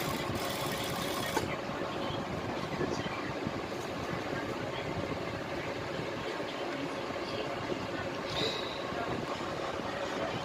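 A sewing machine runs steadily while stitching a maxi dress, a continuous mechanical whir and rattle at moderate level throughout, with no pauses.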